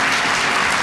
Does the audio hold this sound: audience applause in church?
yes